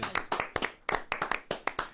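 A small group claps for a band after a radio session, sparse, distinct handclaps in an uneven rhythm, fairly close and fairly quiet.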